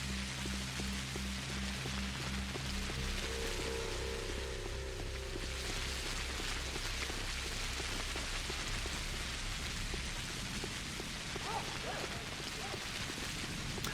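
Rain in the video game Pathologic falls steadily throughout as a dense, even hiss, with low droning tones beneath it early on.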